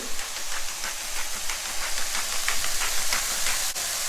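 Spinach sautéing in a hot pan, a steady soft hiss and sizzle with faint crackles throughout, fairly quiet and unbroken by talk.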